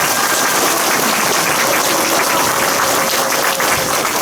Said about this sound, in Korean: 다시 한번 뜨거운 박수 좀 부탁드리겠습니다.